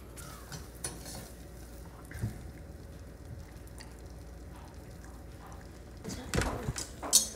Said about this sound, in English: So I'm gonna let this melt, and you're just gonna let this boil for 2 minutes.